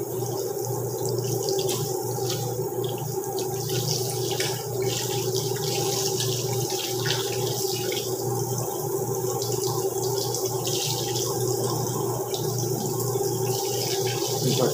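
A tap runs steadily while hands are washed, giving a continuous, even rush of water that stays at the same level for the whole stretch, close by, with no talking.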